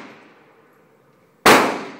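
A single loud rifle shot from an M91 rifle at a shooting session bursts out sharply near the end after a faint low rumble, close and with no voice.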